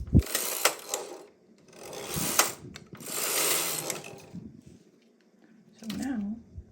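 A domestic knitting machine carriage sliding across the needle bed for two rows, giving two rasping, whirring passes close by, each about a second long, followed by a short burst of talking.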